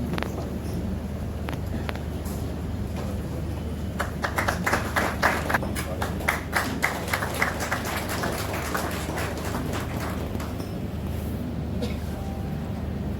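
Scattered, light applause from a modest gathering honouring the Dempo Challengers team, rising briefly in the middle and then fading into the murmur of the room.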